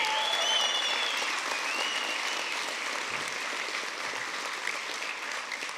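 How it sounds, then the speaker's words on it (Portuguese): A church congregation applauds in a continuous wash of clapping that fades gradually, with no speech over it. "Aí você aplaude Jesus."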